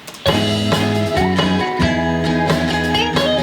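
A full song mix carries an added atmospheric synth pad beneath layered instruments, dense and sustained throughout with bright harmonic layers, no voices talking.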